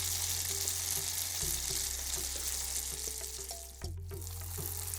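Dhuska batter frying in hot oil, a steady close sizzle and bubbling that holds throughout with faint clicks, no talking.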